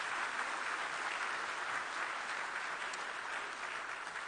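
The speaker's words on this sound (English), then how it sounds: "kindly give Dr. Adesina again a warm round of applause" A conference audience at the Dakar 2 Feed Africa closing ceremony applauds Dr. Adesina: a dense, even roar of many clapping hands, sustained throughout without a pause.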